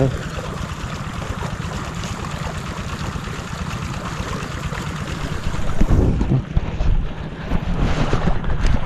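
A boat engine drones steadily at close range amid heavy wind buffeting and splashing water, with a shift in tone near the end.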